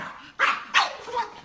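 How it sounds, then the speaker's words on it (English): A dog barks in short sharp bursts, two loud barks followed by a softer third, alone with no talk, as it confronts an alligator. "Now we've got a dog scaring an alligator."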